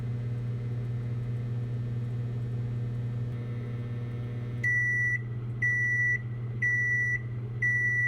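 A microwave oven runs with a steady loud hum while heating pizza bread for about a minute and a half, then gives four evenly spaced, sharp completion beeps near the end.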